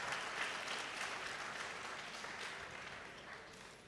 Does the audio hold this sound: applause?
yes